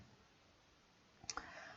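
A single sharp computer mouse click, with a quick second tick just after, sounds in a quiet room while working in Google Forms.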